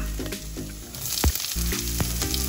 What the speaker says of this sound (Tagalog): At pag mainit na ang mantika, pwede na nating ilagay ang bawang.